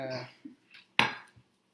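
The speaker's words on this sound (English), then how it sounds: "Just start chopping it. Once you get a nice fine chop of cilantro" Fresh cilantro is chopped with a knife on a board, a few sparse, quiet clicks and taps heard alone in a kitchen.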